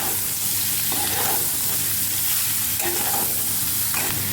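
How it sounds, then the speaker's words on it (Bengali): Soybean chunks fry in hot oil in a pan, a loud continuous sizzle with a faint low hum beneath and a few brief scraping stirs. "আমি সোয়াবিনটাকে ভালো করে ভেজে নিচ্ছি।"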